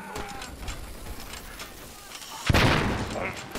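In the World War I video game Valiant Hearts, a sharp grenade blast bursts out loud over background battle noise with scattered distant gunfire.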